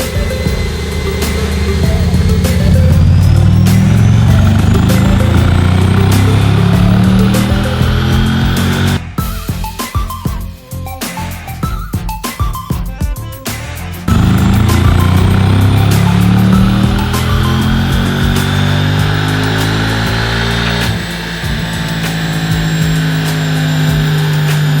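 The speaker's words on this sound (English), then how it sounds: "So let's get this dyno going." A modified car engine revs hard on a dynamometer, its loud droning tone climbing steadily in pitch, breaking into a rough choppy stretch midway, then pulling up again before easing off, with no talking.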